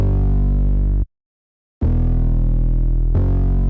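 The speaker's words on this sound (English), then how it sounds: "first I digitally clipped it like crazy." A heavily digitally clipped bass one-shot from a sound pack with a gritty, distorted, meow-like tone. It plays as three loud sustained notes with a short silence after the first, and no one speaks.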